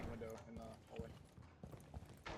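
Horse hooves clopping in a video game, a quick uneven run of hoof beats under game noise and bursts of talk.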